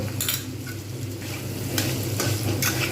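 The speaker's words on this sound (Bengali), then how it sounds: "এটা দিয়ে কিন্তু আবার ফের আমি সুন্দরভাবে আমি নাড়িয়ে নেব" A spoon stirs banana flower curry with ghee in a hot pan, scraping and clinking steadily over a continuous sizzle of frying, close and alone.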